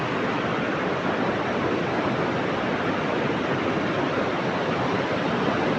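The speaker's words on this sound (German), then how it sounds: "diese Wassermassen." Rushing masses of water in the Scandinavian mountains, a loud, steady broadband roar like a waterfall or torrent, constant throughout with no voices.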